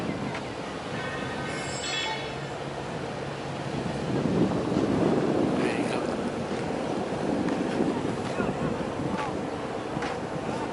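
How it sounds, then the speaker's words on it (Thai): A Sabina Tour boat fitted with four engines runs at sea off Kuraburi pier on the way to the Surin Islands, its steady low engine drone mixed with wind buffeting and wave wash, swelling louder midway. "อันนี้เป็นเรือของซาบิน่าทัวร์นะฮะ ติดสี่เครื่องเลยนะครับวันนี้"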